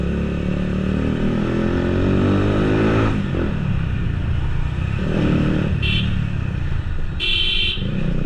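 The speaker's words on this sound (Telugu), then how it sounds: "బేస్ చూసారా బ్రోస్, నెక్స్ట్ లెవెల్ బేస్ వస్తుంది మన బైక్" A KTM RC 390 motorcycle on a night road ride, its exhaust droning loud and near as the revs climb and then fall away, with short horn honks sounding twice near the end.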